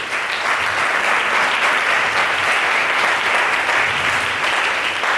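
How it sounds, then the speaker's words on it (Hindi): Steady, sustained applause fills a church congregation during a charismatic worship service, dense and even throughout with no voices standing out. "क्या ताली दे सकते हैं?"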